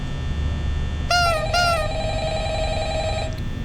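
A telephone rings in the horror video game Five Nights at Freddy's, sounding two short electronic trills close together, followed by a lingering tone and a faint room hum.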